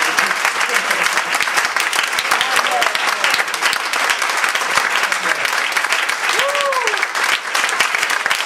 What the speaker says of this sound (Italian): E siccome questo applauso